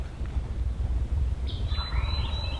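Wild turkeys calling in a wooded hollow, with a couple of thin, faint, distant high calls coming in over low rumbling outdoor background noise partway through.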